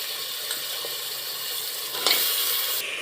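Goat head pieces dropped into hot oil with fried onion, giving a steady close sizzle with a brief louder clatter partway through and no talking.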